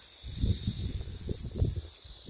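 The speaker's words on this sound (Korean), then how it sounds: "매미가 울죠." Cicadas in the countryside near sesame and corn fields on a clear summer day give a steady high, shrill drone throughout, under intermittent low thumping and rustling noises.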